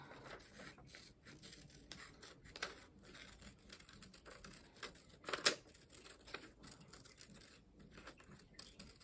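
Quiet scissors snip in short, irregular cuts with faint rustling of paper between them, close up and without speech.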